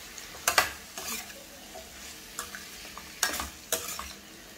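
A spoon stirs green chilli and brinjal in a pan, with several distinct scraping strokes spaced unevenly over a faint background sizzle, close and fairly quiet, with no speech.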